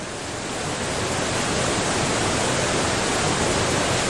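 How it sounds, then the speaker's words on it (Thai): A three-tier waterfall on the Nera River near Terni, Italy, roars as a steady, dense broadband rush of falling water, loud and continuous without pause. "น้ำ50คิวบิกเมตรร่วงผ่านน้ำตก3ชั้นเข้าสู่หุบเขาของแม่น้ำเนราใกล้เมืองแตนี"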